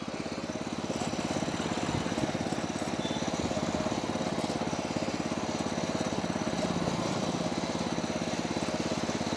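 An 8HP power weeder engine runs steadily at close range, a loud, even, rapid mechanical chugging that holds constant throughout.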